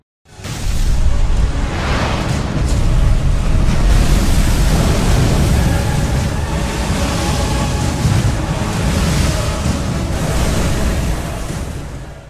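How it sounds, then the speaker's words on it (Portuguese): Sea waves and a strong east wind as the Red Sea parts, a loud continuous roar of surf and rushing wind that swells and sustains for the whole stretch with no voices. "E o Senhor fez retirar o mar por um forte vento oriental toda aquela noite."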